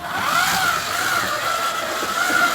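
A Scalextric BTCC BMW 330i slot car whirs steadily around a track, its high electric motor whine rising and falling as it passes, continuous and fairly loud.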